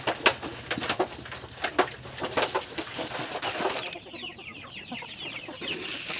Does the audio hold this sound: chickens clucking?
yes